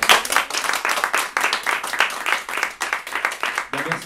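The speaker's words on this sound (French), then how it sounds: "vous pouvez l'applaudir." A small live audience claps for a singer at a pocket concert in a media library, a moderate burst of fairly distinct hand claps that pulses unevenly throughout.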